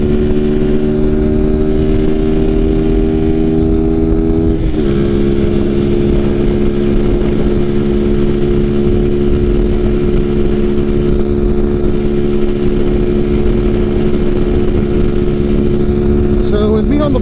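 A motorcycle engine drones loud and close during a road tune test, holding a steady high-revving pitch that dips briefly as it shifts, then climbs and sustains, with wind rush throughout.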